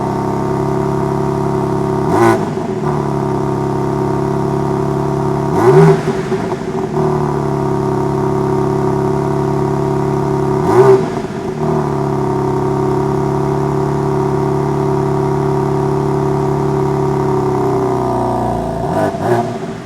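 A 2022 BMW M4 Competition Coupe idles with a steady, loud engine drone, broken by four quick throttle blips that rise and fall sharply, heard up close with no talking.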